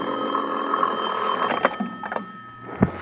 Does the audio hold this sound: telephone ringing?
yes